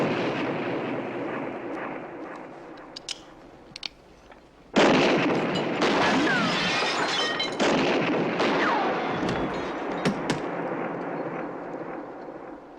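A gunshot in a Westworld film scene as the gunslinger is shot: a few small sharp cracks, then a sudden loud blast that becomes sustained, rumbling, noisy action sound.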